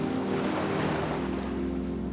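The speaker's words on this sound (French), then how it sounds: "Le doux son des vagues qui s'échouent sur le rivage rythme ta présence sur cette plage isolée" Ocean waves breaking on the shore of an isolated beach, a soft continuous wash of surf with low rumble and faint wind, heard alone.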